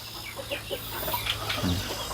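Domestic backyard chickens in their wooden roosting coop, giving soft intermittent clucks and a low rising call near the end over steady farmyard background hum.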